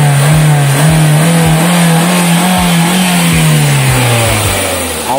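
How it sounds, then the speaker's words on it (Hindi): A Hyundai Verna 1.6 petrol engine revs loudly up close, a strong mid-pitched engine note rising and falling through repeated throttle blips with a steady idle hum beneath, no voices. "एकबार जदि रेसटा करे आपनादेरके आवाजटा शुनिये दिई पेट्रोल गाड़ी आवाज केरकम"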